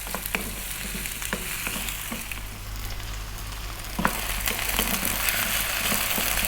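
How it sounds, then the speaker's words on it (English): Potatoes frying in a pan over fairly lively heat for a potato zucchini dish, giving a dense continuous sizzle with scattered scrapes and taps from frequent stirring; no one talks. "We're going to go for about 4 minutes on this fairly lively heat, stirring fairly often."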